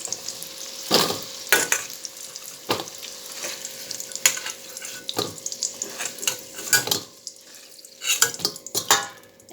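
Potatoes frying in oil in a home kitchen, with sizzling throughout and a series of sharp scraping stirs and clinks of a utensil against the pan at irregular intervals, close and fairly loud, no talk.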